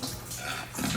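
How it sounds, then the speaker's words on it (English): Diesel fuel pours from a five-gallon bucket into a tank during a fuel polishing job, a steady splashing, gurgling liquid rush heard close and alone for about a second. "Trying to start putting the diesel fuel back in the tank."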